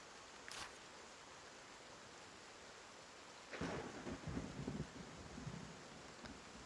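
Thunder in the turn-based medieval sandbox RPG Wartales, a low rolling rumble breaking over a steady hiss of rain, faint at first and then swelling into a heavier roll midway before settling back.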